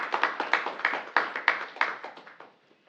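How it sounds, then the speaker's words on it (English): Scattered handclaps from a small city council meeting audience greet a newly appointed planning commissioner, a brief uneven patter of about a dozen claps that thins out and fades within three seconds. "That might be the first applause for the appointment of a planning commissioner I've seen."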